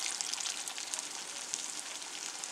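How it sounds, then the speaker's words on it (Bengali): Papad dhoka fries in hot refined oil, a soft continuous sizzle with tiny crackling bubbles, faint and close, with no talking. "এখন আমি এগুলোকে ভাজার জন্য দিয়ে দিলাম"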